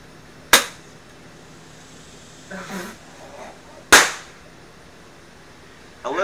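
A homemade air rifle mortar fires outdoors with two sharp, loud pops a few seconds apart, separated by a softer thud, and another burst begins at the very end.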